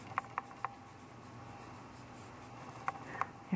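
A pen writing on paper, with light scratchy strokes in two short bursts near the start and again near the end, quiet and close with a faint background hum.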